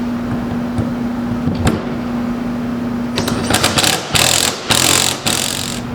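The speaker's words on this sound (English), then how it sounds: "You put this on the end of an impact gun and it will stop it from spinning at 100 foot-pounds." An impact gun fitted with a torque stick works on an overdrive bolt during a D-type overdrive rebuild, sounding a hum and then loud, close bursts of hammering rattle toward the end.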